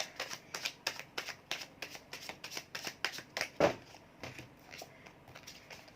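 Tarot cards are shuffled by hand in a quick, rhythmic series of soft, crisp riffles and taps, fairly quiet and close, slowing and thinning out toward the end.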